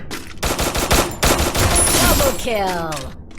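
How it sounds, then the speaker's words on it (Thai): Rapid bursts of gunfire in a Free Fire ranked-mode match as a bot is shot down, dense and loud, with a voice cutting in and a rising whine at the end. "บอทก็ยิงทิ้งซะเลย"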